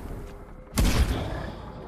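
A single gunshot blast in Black Ops Cold War Zombies, fired at close-range zombies, hits hard and loud, then rings out in a lingering rumble over low game ambience.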